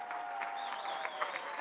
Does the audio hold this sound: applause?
yes